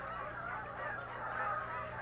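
Canada geese at a wintering refuge in Maryland honk continuously as a faint, overlapping flock chorus.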